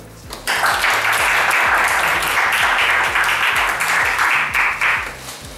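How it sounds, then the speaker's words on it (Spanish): Audience applause at a comedy contest prize-giving, dense and sustained for about five seconds over a steady pulsing beat of background music. "Un aplauso."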